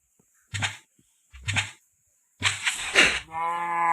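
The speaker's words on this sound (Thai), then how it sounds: "ไอวัวไม่เข้ามา วัววัวไม่เข้านะวัวไม่เข้า" Several short, low cow moos in quick succession from a cow in Minecraft, then a longer, drawn-out moo, heard clearly with no talking.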